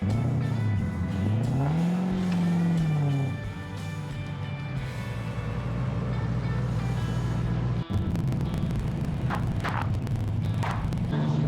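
Chevrolet C10 truck towing a broken-down Willys with a coolant leak: a steady engine drone that rises and dips early on, then holds, close and continuous, with a brief clunk midway.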